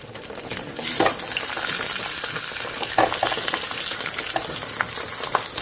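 Fish sizzles steadily in coconut oil in a clay pot, a close, bright crackling hiss with occasional spatter pops and light scraping.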